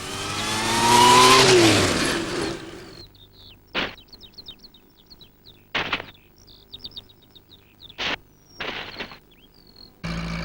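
A car drives fast in a 1992 Postman Pat animation, with a loud engine rev that rises and falls over the first few seconds. Short bursts of chirping and tweeting follow, separated by quiet gaps.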